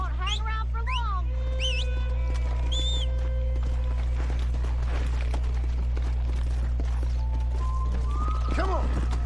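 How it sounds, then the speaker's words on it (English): Horses in the Western video game Red Dead Redemption clip-clop and whinny over a steady low rumble, hoofbeats mixed with a few snorts and neighs, with character voices talking over them. "Those horses won't hang around for long."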